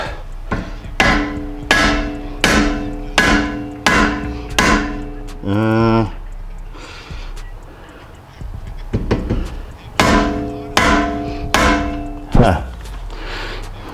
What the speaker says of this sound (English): I'm just gonna give these axles a tap, a little love tap.